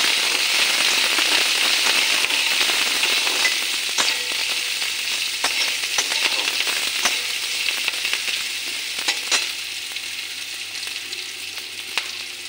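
Chopped onion and onion-stalk pieces sizzle steadily in a hot pan, a dense continuous crackle with scattered sharper pops, close and fairly loud, alone without any talk.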